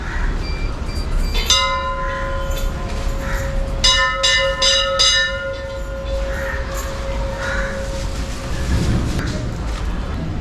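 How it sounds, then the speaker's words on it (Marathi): A temple bell rings at a family wedding function, giving a sharp metallic strike followed by several quick strokes with long ringing tones that hang over a noisy crowd background. "घंटी."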